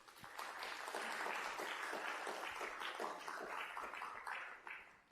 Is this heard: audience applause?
yes